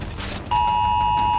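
A mobile phone dust storm warning alert sounds as a loud, steady electronic tone that cuts in abruptly over a rumbling background and holds unbroken.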